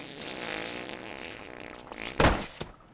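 A fart in the animated series The Wrong Coast, a short loud sputtering burst that cuts sharply through quieter background sound, with a smaller puff trailing just after.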